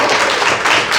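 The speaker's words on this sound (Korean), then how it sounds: "박수 좀 쳐주세요" Audience at a press training session clapping: a brief, loud wash of dense, steady applause with no distinct individual claps or voices.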